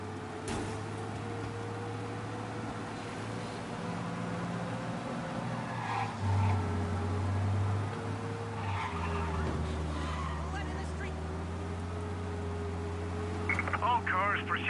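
Cars roar at speed in a police chase in the Mafia video game, a steady engine drone with tire noise and brief skids, voices talking over the driving.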